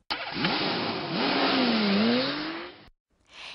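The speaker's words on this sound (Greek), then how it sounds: "είναι ένα αυτοκίνητο που μαρσάρει" A car engine revs loudly and steadily, its pitch climbing and dipping for nearly three seconds before cutting off abruptly, followed by a brief fainter noise.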